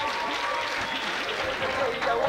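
An audience claps and cheers to welcome the comedian Mitsutsu at a comedy show, a dense, steady burst of applause filling the whole stretch, with voices mixed in.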